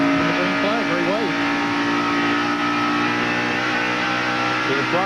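A stock car engine roars near full throttle during a 1991 NASCAR race at Darlington, a loud sustained mid-pitched drone with brief shifts in pitch early and late, and commentary over it.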